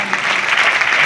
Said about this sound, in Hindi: सुरेंद्र सर के लिए जोरदार तालियां